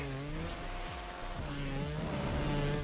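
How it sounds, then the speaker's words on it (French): A motorbike engine in the video game Trials Fusion revs hard and continuously, its pitch rising and dipping as the throttle is worked, with the tyre slipping and skidding, loud and close throughout. "Si tu es tout le temps sur l'accélérateur, malheureusement la moto elle a tendance à glisser comme une banane."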